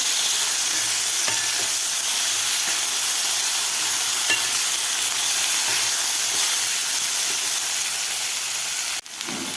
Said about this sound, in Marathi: वांगेसुद्धा आपल्याला एक मिनिटभर खालच्या शेंगाबरोबर परतून घ्यायचे आहेत तेलामध्ये